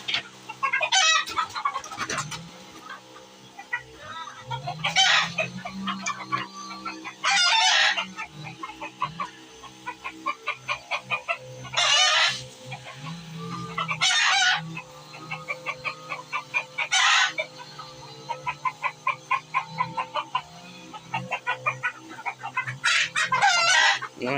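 Hens and roosters on a small chicken farm: repeated loud crowing calls every few seconds over continuous nearby clucking and cackling, with occasional faint talk.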